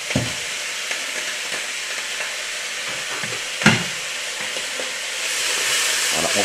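Onion and crushed garlic sautéing in a pan over lowered heat, a continuous close sizzle and hiss broken by a few stirring scrapes and one sharp clatter midway.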